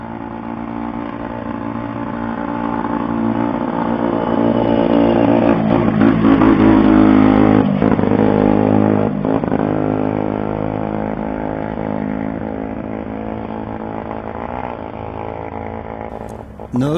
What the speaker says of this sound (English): Notice the revving just as it passes my house, and never mind the stop sign.